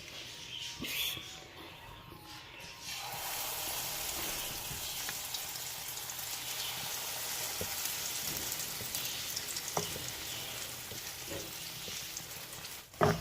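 Egg malpua batter fries in hot oil in a pan with a soft, steady crackling sizzle that swells after a quieter start and carries on alone, with a few faint clinks.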